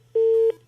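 A single steady telephone tone sounds after a call is suddenly cut off, holding for about a third of a second with a soft low hum beneath it and no talk.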